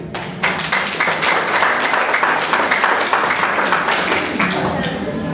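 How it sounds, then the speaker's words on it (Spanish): Warm applause from guests at a baptism celebration welcoming a guest, loud, close and sustained clapping from a crowd throughout. "También recibimos con calurosas palmas"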